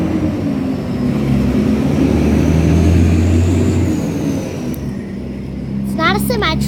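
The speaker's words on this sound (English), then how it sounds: "Big truck's coming by." A large truck, not a semi, rumbles past outdoors as a loud low-pitched drone that swells and fades over several seconds, followed by a voice talking near the end.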